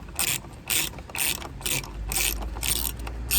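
Ratchet spanner tightening a bolt during a home service of a VW Golf: six or seven short bursts of rapid metallic clicking, evenly spaced, close and fairly loud.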